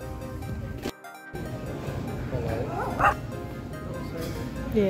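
An emotional support dog barks and yips indoors, with repeated sharp bow-wows and higher whimpering yips close by over busy background chatter and room noise.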